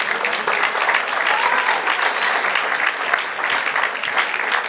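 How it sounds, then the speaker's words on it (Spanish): Steady, dense applause from a church congregation during a sermon, a full sustained wash of clapping throughout with no clear break. "Dale un aplauso al Señor."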